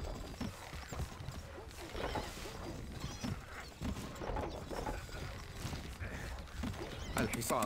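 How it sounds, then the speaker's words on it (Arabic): Horse neighing and galloping hooves in the video game Stronghold: Crusader, under a busy, dense game soundscape with other effects and voice lines. "الحصان سريع."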